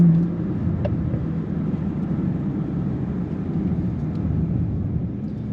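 Bentley Continental Speed (2022) working on a race track, a steady low engine and road rumble holding level throughout, close and continuous with no voices over it.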